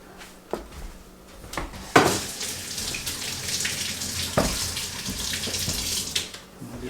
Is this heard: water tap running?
yes